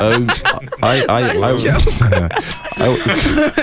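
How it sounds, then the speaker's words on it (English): A joke bell pressed during a radio studio morning show rings with a bright, sustained metallic tone in the second half, heard under continuous close conversation and laughter. "Is this the joke bell?"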